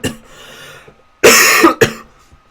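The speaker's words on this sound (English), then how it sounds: "Just got a really bad cough." Two loud, harsh coughs up close, one long burst followed by a shorter one, after a faint breathy lead-in, from someone suffering a really bad cough.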